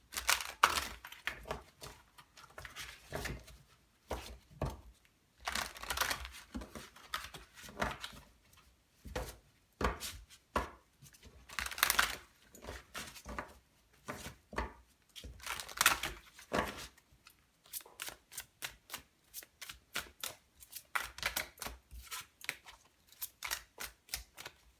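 Tarot cards shuffled and drawn for a reading, giving a long run of crisp papery flicks and snaps, some in quick dense bursts and others spaced out, close and fairly soft with no talking.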